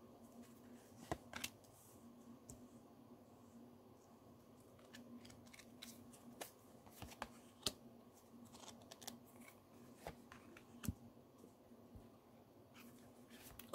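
Tarot cards are shuffled and drawn by hand: soft papery rustling with scattered sharp flicks and snaps, quiet and close, against a low steady room hum with no talking.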